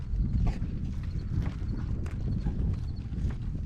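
Horse hooves clip-clopping in a pen, a run of uneven close thuds on the ground at a walking pace, moderately faint.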